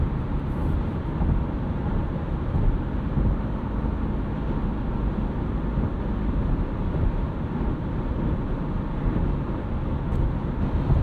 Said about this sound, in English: we do have a bit of road and wind intrusion in this thing